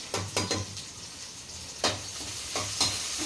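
Dried red chillies and tempering spices fry in hot oil for a hotel-style drumstick sambar, a steady close sizzle broken by several sharp clinks and scrapes of a spoon stirring the pan, with no voices.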